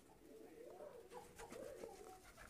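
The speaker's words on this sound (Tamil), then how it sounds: "இது சாதாரணமான புறா மாதிரி குரல் கொடுக்காம யாகு யாகு யாகுன்னு குரல் கொடுக்கும்" An Arabian Yahoo pigeon, an ornamental fancy breed, gives a low repeated cooing call, steady and moderately close against constant background hiss and murmur.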